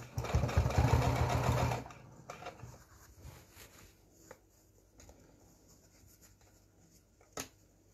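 A domestic sewing machine stitches back and forth along the bottom of a fabric advent calendar, a loud close whirring burst for about two seconds, then quiet handling clicks and taps.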